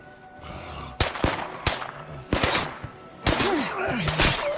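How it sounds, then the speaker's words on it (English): Small-caliber gunfire in the zombie survival game State of Decay 2, fired from a farmhouse: sharp separate shots and short bursts, spread irregularly through the stretch with a dense cluster near the end. "And they're also shooting small caliber gunfire at me, trying to hit the zombies."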